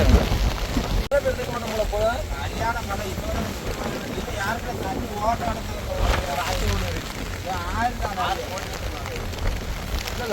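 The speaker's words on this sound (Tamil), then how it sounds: "ஒரு வருஷம் பார்த்தாலும் இந்த அளவுக்கு மழை கிடையாது" Heavy rain pours steadily in Thoothukudi, India, with strong gusts of wind buffeting the microphone, while voices talk over the downpour.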